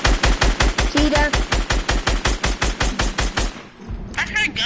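Rapid bursts of automatic gunfire in Fortnite rattle in a fast, even rhythm for several seconds, then stop abruptly before a few scattered sounds.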